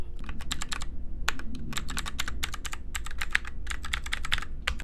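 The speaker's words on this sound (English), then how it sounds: "So this is my keyboard." Rapid typing on a brand-new computer keyboard in a home gaming setup, bursts of clicky keystrokes in quick runs with short pauses, close and steady over a low background hum.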